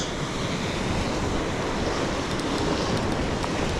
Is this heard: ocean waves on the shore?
yes